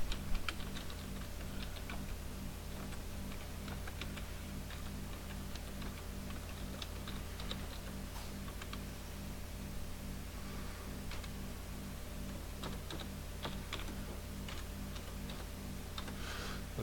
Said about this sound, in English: I can type in what address I want to go to